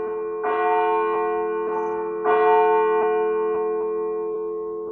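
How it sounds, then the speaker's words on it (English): Church bells ringing nearby from the church overhead, two resonant strikes with long, humming decay and lighter chime overtones, loud and clear with no talking. "You guys are going to hear the bells quite frequently. I live right underneath the church, so every 15 minutes it pings."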